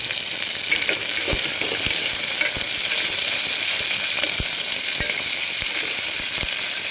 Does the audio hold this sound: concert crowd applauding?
no